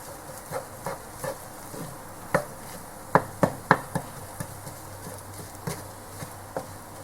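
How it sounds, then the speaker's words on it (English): Cooked potatoes being crushed with the back of a spoon while making aloo paratha filling: a series of soft, irregular taps and squashes close by, a few sharper knocks in the middle, with no talking. "So I'm just crushing it with the back of the spoon."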